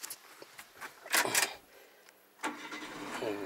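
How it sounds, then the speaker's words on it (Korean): A 2007 GM Daewoo All New Matiz engine cranks and fires, with a loud burst of starter and ignition noise in the middle of the clip, then a brief quieter stretch and a second rise as the small engine settles. "자, 시동을 걸어서"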